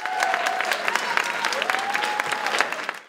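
Audience of college students applauding after a veterans' choir sings, brisk close clapping throughout with voices and a whoop mixed in.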